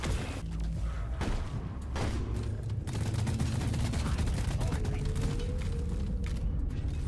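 Shotgun blasts loaded with shaped shells in the sci-fi mining shooter Deep Rock Galactic, several heavy shots ringing out amid a constant rumble of game noise and creaking machinery, with no talk.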